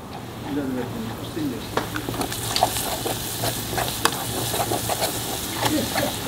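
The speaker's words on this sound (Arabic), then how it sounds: "ونقلبه مع الزيت رشه فلفل اسود" Kuwaiti machboos ingredients, garlic with black pepper, frying in oil while being stirred, a steady sizzle with occasional scraping clinks of the spoon, and someone talking throughout.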